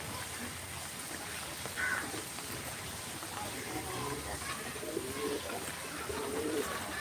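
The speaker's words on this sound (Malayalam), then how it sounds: "ആട് കോഴി താറാവുകളിൽ കുറച്ചൊക്കെ ഉണ്ട് ഇവിടെ പ്രാവുകളുണ്ട്" Pigeons coo softly on a farm that also keeps goats, hens and ducks, with a few low calls rising over a steady hiss of rain falling throughout.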